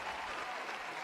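A short, steady burst of crowd applause plays as a sound effect on a podcast, dense and even throughout with no talk over it.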